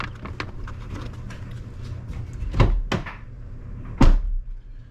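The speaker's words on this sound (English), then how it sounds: "I'm going to open the door," A Ram 1500 pickup's door opening from inside the cab, heard as two sharp thuds with a clunk, about a second and a half apart, over a low steady background hum.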